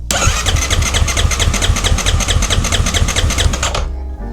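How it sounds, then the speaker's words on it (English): Kawasaki KX450 2021 dirt bike engine cranking at wide-open throttle for a compression test, a loud close rapid rhythmic chugging of the starter turning over for several seconds before stopping abruptly. "Throttle wide open and crank."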